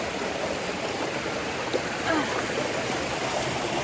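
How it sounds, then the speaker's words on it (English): Steady rushing water of a waterfall in Portland, Jamaica, a continuous broadband roar heard from nearby. "Waterfall."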